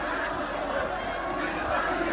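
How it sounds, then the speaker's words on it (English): A large crowd of protesters massed at an airport entrance roars and chatters continuously, a dense, loud wall of voices and shouting with no single voice standing out. "Big crowd."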